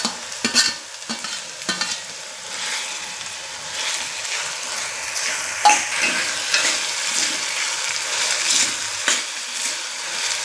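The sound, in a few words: frying onion and tomato in oil while stirring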